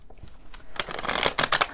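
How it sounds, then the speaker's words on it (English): Tarot cards being shuffled by hand: a quick run of crisp, close riffling flutters that builds over a couple of seconds, alone with no talking. "This is going to be weird because I'm just sitting here shuffling."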